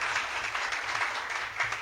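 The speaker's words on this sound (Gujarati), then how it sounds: "એકવાર જોરદાર તાળીઓ થઈ જાય" Audience applause fills a community hall during a society gathering, a brief, steady patter of many hands clapping at moderate volume with no voices over it.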